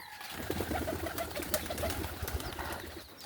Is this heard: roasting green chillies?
no